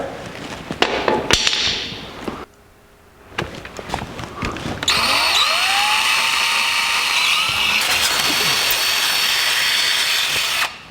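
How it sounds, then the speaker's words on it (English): A power drill whines steadily as it bores a 1/4-inch hole through a metal radiator brace on a 1949 Chevrolet gasser, its pitch sliding up and holding with a grinding edge, after a few short clanks and handling noises. "mark that hole location, and we'll drill it."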